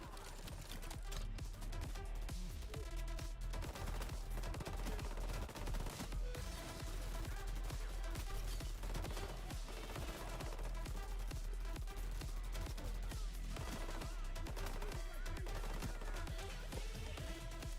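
Sustained gunfire from the video game Payday 3, loud and dense throughout, with continuous bursts and shots layered over a steady game soundtrack.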